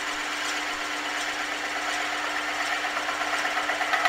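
A spiralling and texturing tool cuts into spinning wood on a lathe, giving a steady, continuous whirring and scraping hum at moderate loudness with no voices.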